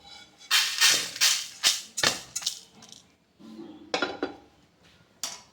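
Rice is dry-roasted in a pan and stirred in bursts, producing a series of bright scraping rattles and metallic clinks, about a dozen close, irregular strokes separated by short pauses.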